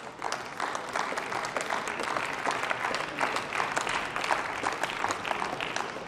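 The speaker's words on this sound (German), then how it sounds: "Applaus" Parliamentary applause fills the German Bundestag chamber during a family relief debate, a steady sustained wash of many hands clapping at moderate distance for several seconds.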